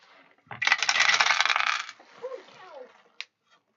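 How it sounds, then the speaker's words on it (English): A large handful of dice poured and rolled during a tabletop game, giving a dense rattling clatter for over a second, then a few scattered settling clicks and a final sharp tap, close and moderately loud. "Those are a lot of dice."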